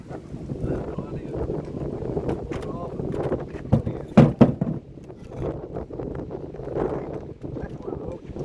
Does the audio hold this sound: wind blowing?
yes